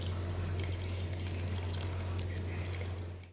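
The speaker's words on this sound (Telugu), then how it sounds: "నాకు ఎంతైతే పులుసు కావాలో అంత పోసుకోవాలి." Tamarind fish curry broth poured steadily into a pot, a continuous close liquid rush lasting a few seconds over a low steady hum.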